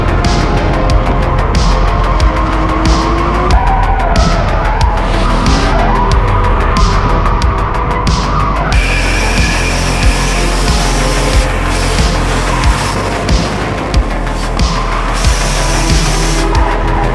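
A car does a burnout with its tires squealing loudly and continuously over a roaring engine. The screech stays steady and close throughout, with no talking.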